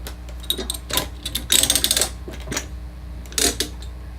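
A Rultract surgical retractor cranked by hand, giving quick bursts of clicking ratchet sounds in short uneven runs, close and alone.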